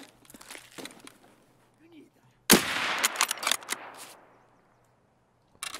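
A Mosin rifle shot in Escape from Tarkov rings out as one loud, sharp blast midway through, followed by a ringing tail and some clattering handling noises, with quieter shuffling and talk before it.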